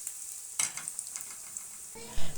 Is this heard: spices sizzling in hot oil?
yes